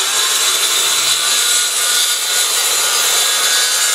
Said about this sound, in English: we'll be sawing out all the way down to the end